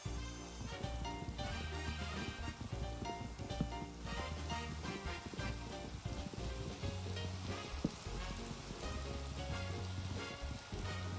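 Rain falling in a video game, a dense steady patter of drops on surfaces, even and continuous at low level with no voices.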